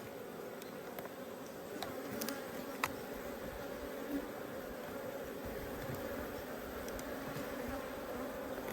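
Honey bees swarm and hum steadily around an opened nucleus hive during an inspection of nectar-heavy frames, a continuous close buzz with occasional individual bees zipping past the microphone.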